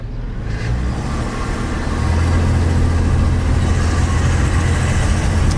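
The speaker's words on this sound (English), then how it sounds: "let me show you the difference now, taking off in 2nd gear as opposed to when we were taking off before" A 26-year-old Isuzu Trooper with a troubled transmission pulls away in second gear, its engine droning loud and steady from inside the vehicle, the rumble building slightly as it gathers speed, with no talk.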